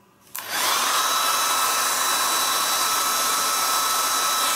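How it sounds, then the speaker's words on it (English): A hair dryer switches on with a click and blows in a loud, steady whoosh with a thin whine, running continuously with no voices, melting wax into leather. "Now we take the hairdryer."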